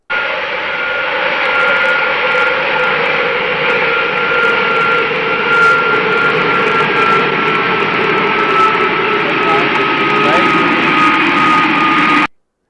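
A jet airliner roars steadily through its landing, a loud, continuous broadband engine and air rush heard from inside the cabin with a faint whine on top, cutting off abruptly at the end.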